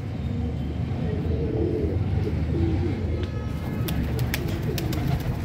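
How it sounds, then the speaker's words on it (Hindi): A pigeon coos softly and repeatedly against steady outdoor traffic rumble, with a few faint clicks toward the end. "ये प्यारा सा कबूतर जो है वो उड़ने की कोशिश में है"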